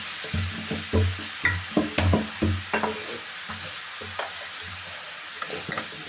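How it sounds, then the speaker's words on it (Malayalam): Shredded dried beef is stirred in a pan with splashes of rock-salt water, a close, quick run of scraping strokes over a low sizzle that thins out toward the end. "നീര് ഒഴിച്ചു കൊടുത്ത് ഇറച്ചി നല്ലപോലെ ഇളക്കുക."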